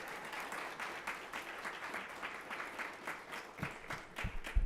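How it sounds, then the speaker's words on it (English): Audience applause at a 2025 citizens academy graduation and volunteer recognition ceremony, a soft, continuous patter of many hands, fairly distant, with a few louder knocks near the end. "You guys give a round of applause for Crystal."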